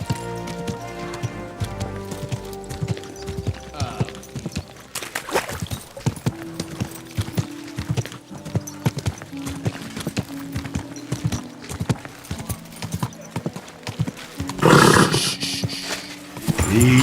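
In the medieval game Kingdom Come: Deliverance II, a horse's hooves clip-clop in a steady walking rhythm close by over soft ambient music, with a brief louder snort or whinny near the end.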